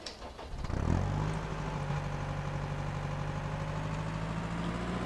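Steady idle of a Weidemann loader's engine in Farming Simulator 2013, a continuous low rumble with a constant hum and no speech, holding even and unbroken from the start to the end.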